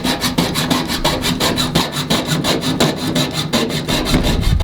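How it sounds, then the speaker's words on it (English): A handsaw cuts through a wooden wall panel board after a shaky reciprocating saw was set aside, its strokes rasping in a steady, fast back-and-forth rhythm, close and loud, with no talking. "so we're going to try a handsaw on it."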